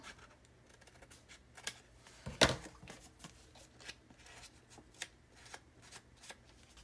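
Scissors trim a piece of 12x12 craft paper, giving soft crisp snips and rustles close by, with one sharper louder cut near the middle among faint scattered paper sounds.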